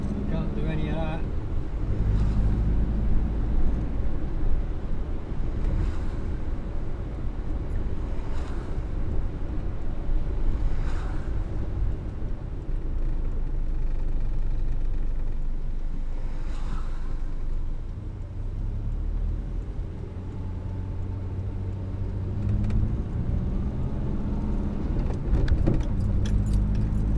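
A Morris Minor with drum brakes creeps along slowly in third gear, its low engine drone steady and close throughout while someone talks over it and occasional light rattles come through.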